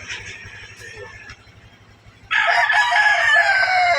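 A rooster crows loudly nearby in the morning, a long drawn-out cock-a-doodle-doo after an earlier, quieter crow, with a low hum underneath.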